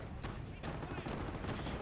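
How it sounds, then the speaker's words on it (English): Rapid autocannon bursts and battlefield gunfire in a Company of Heroes World War II real-time strategy match, dense overlapping shots with a Hellcat tank destroyer firing, loud and continuous alongside commentator speech. "Bit of autocannon fire here, takes a hit there from the Hellcat."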